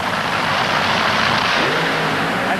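Top fuel dragsters idle and rev at the starting line of a 1981 NHRA drag race, a loud, harsh, continuous engine roar with no pause.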